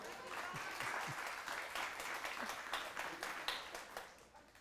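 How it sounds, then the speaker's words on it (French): Audience applause at a public ceremony on a bay in Charlevoix, a steady wash of many hands clapping heard at moderate distance, with faint voices mixed in beneath it. "je vous demanderai de l'applaudir"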